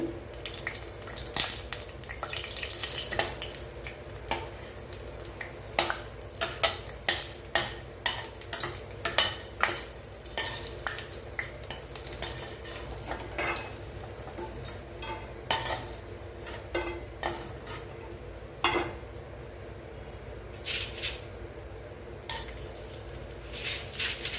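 Aval vadam, rice flake crisps, frying in hot oil: a low bubbling hiss with scattered crackles and occasional sharp taps of a utensil against the pan, moderately close.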